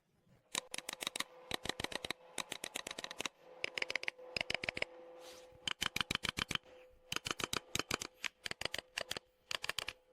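Rapid bursts of crisp clicking from a mechanical keyboard, close and clear, coming in quick clusters with short pauses between.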